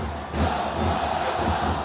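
Red and white basketball crowd in Mall of Asia Arena at a men's finals game, a loud sustained roar of cheering that surges up after a brief quieter moment.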